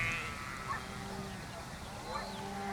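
Sheep bleat on a farm, a few faint distant calls scattered over a noisy outdoor background, with people talking at moments.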